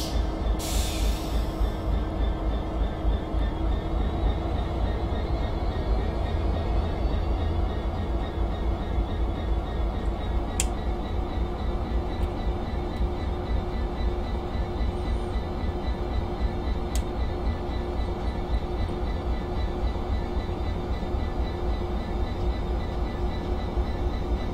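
A Class 66 diesel freight locomotive in Train Simulator on the Great Eastern Main Line, heading for the Marks Tey tarmac siding, with a steady, loud engine drone and rail rumble throughout and a couple of brief sharp clicks.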